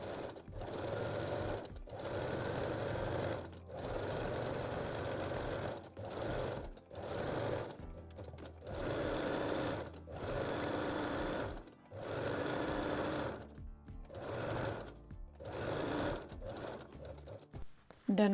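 A sewing machine stitches stretched elastic onto a lace bralette, running in steady whirring bursts of a few seconds separated by short pauses, close and even in loudness.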